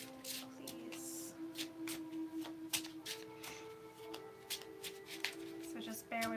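Tarot cards shuffled during a monthly reading, a run of quick papery riffles and flutters fairly close, with a steady tone and faint background noise underneath.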